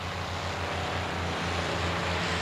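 A P-51 Mustang fighter's piston engine drones in a loud, steady, throbbing roar with a low pulsing hum, continuous throughout with no voices.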